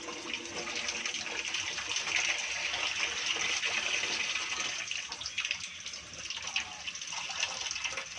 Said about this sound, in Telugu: ఇది ఉడికించిన తర్వాత ఈ వాటర్ వంపేసేయాలి.